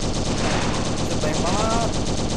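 Rapid automatic gunfire in an Android zombie shooter game, a dense continuous burst of loud close shots filling the whole moment, with a voice faintly underneath.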